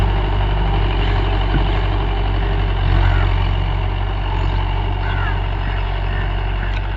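A Mahindra Yuvo Tech Plus 585 4WD tractor engine runs steadily nearby, a loud, continuous low diesel rumble with little change throughout and faint talk buried beneath it.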